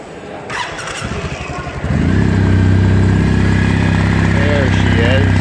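A 2019 Kawasaki W800 Cafe motorcycle with dual pea-shooter exhausts starts up and settles into a steady, loud idle close by, with a low rumbling drone that holds for several seconds.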